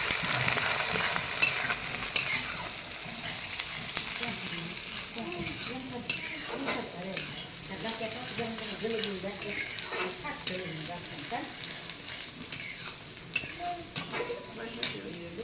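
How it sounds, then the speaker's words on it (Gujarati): Onions fry in a pan, stirred for a masala base for aloo paratha, giving a steady sizzle with scraping spoon strokes and light metal clinks against the pot, with faint voices behind. "પેલા કાંદા નાખી દીધા છે. થોડાક પાકી જાય પછી આપણે ટમેટા એમાં એડ કરી દેવું."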